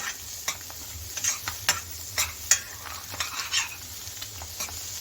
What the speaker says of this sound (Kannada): ಈರುಳ್ಳಿನ ಇದರಲ್ಲಿ ಹಾಕ್ಕೊಂಡು ಈರುಳ್ಳಿನ ಫ್ರೈ ಮಾಡ್ಕೋಬೇಕಾಗತ್ತೆ